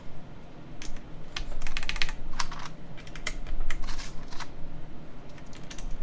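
Keys clack on a custom mechanical keyboard fitted with new keycaps, including a translucent accent row, in irregular bursts of crisp close-up keystrokes over a low steady background hum.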